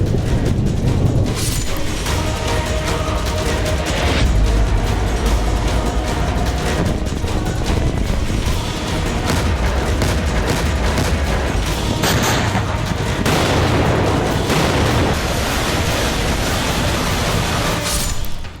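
A long stretch of heavy, rumbling blast noise from an Israeli strike on Syria, dense and roaring, with booming bursts and crackling like explosions or artillery fire.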